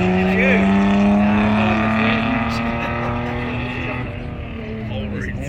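HQ series spec racing car driving at the Leyburn Sprints event, its engine droning loud and close with a steady rising pitch, then easing slightly as it moves away toward the line.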